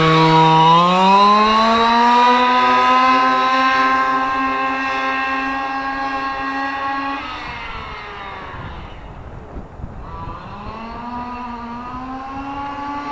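A Losi 5ive-T 1/5 scale gas RC truck on a speed run, its small engine screaming loud and rising in pitch, easing off around midway, then revving up again for another hard acceleration, with no talk.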